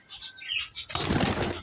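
A young male pigeon takes off with a quick burst of flapping wings, close by and fairly loud, preceded by a few faint chirps, all within under two seconds.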